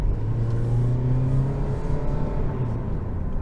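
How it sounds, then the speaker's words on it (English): A 2023 Toyota Prius AWD accelerating, heard from inside as a steady low engine drone and road rumble with a faint rising whir, moderately loud and unbroken, with no talking. "let's get into the gas a little bit"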